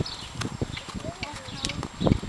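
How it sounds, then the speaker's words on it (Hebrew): A horse named Siman Tov carrying a young rider, hooves clopping in an uneven run of soft thuds with the strongest hits near the end, mixed with chatter and outdoor ambience. "יאן, הסוס הזה דוהר."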